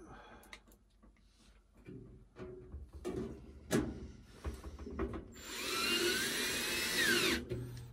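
A power drill drives screws during assembly of a microwave convection oven, a brief whine near the start and a sustained high buzzing run later, amid clunks, handling knocks and quiet talk.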